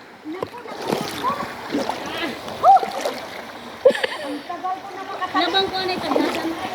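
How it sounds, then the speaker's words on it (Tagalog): Footsteps wade through a shallow river with a mossy bed, giving irregular close splashes and sloshing water while people talk over them. "Dito tayo sa ilog"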